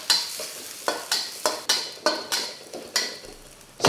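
Garlic slices and small chillies stir-fried in a little oil for gon siu prawns: about nine sharp, rhythmic spatula scrapes against the pan over a bright sizzle, close and loud, with no talking.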